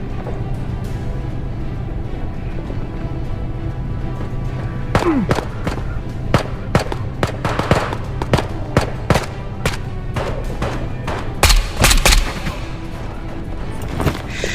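Gunfire in the video game Ghost of Tabor crackles as scattered sharp shots, some single and some in quick clusters, over a steady low background hum with no talking.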